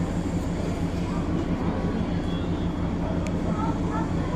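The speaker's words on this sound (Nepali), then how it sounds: "यहाँ चाहिँ ट्रेन आएर अगाडि रोकिरहेको छ" A train pulls into a station in a steady low rumble that holds throughout, with voices talking in the background over the mechanical drone.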